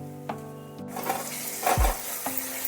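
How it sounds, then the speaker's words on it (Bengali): Turmeric, red chilli powder and Kashmiri chilli powder sauté in a pan for Bengali dhaba-style egg tarka, with soft sizzling and a few clinks and scrapes of a spoon stirring, close and fairly quiet. "আবারও সব মশলা একটু কষিয়ে নিচ্ছি"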